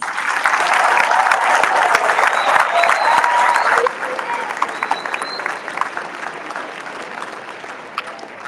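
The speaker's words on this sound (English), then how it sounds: "Can we give everyone a round of applause," A conference audience at an opening ceremony applauds steadily, loud at first and then thinning out and fading as the clapping dies down.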